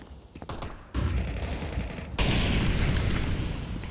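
Rapid gunfire in Counter-Strike on the Mirage map during an ESL Challenger League match, loud bursts of automatic fire that come in sudden waves and build into a dense, continuous exchange.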